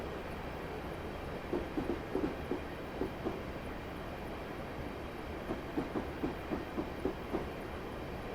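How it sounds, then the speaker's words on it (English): Class 150 diesel train coasting along rails in Train Simulator 2016 on the Bristol to Cardiff route, with a steady low rolling rumble and regular pairs of faint clickety-clack wheel beats over rail joints. "I'm going to idle the power and allow the train to coast"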